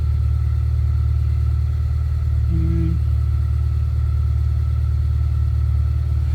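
A Holden Barina ML's engine runs at a steady idle, a low continuous rumble with a faint hum above it and a brief tonal blip midway; close and unchanging, with no talk.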